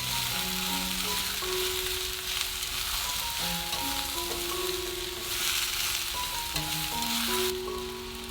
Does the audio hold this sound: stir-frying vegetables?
yes